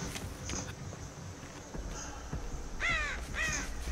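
Crows caw in the Texas Chainsaw Massacre video game, a few scattered harsh calls with two sharp, close caws near the end over quiet ambient game noise.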